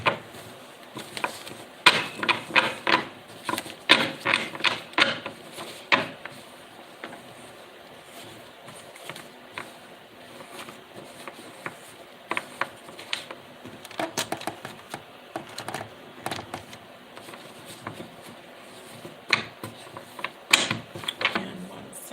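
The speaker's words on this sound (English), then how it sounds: "We're going to do 3 shuffles." Tarot cards are shuffled in three rounds of close, crisp riffling and flapping bursts separated by quieter handling and soft clicks.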